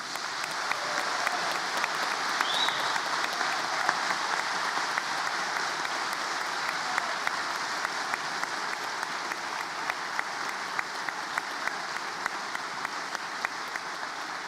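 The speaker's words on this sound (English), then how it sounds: "just perhaps we could give one last big round of applause to all of our Bachelor of Education students" A large graduation-ceremony audience gives a last big round of applause for Bachelor of Education students, a broad, even roar of clapping that holds steady and unbroken from start to finish.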